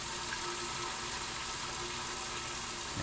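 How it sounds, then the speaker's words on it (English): Water from a hose flushes through a clogged car heater core in a steady, continuous rushing gush that stays at an even level, close and with no talk over it. "Now you can see that water, it's not coming out of there very clean."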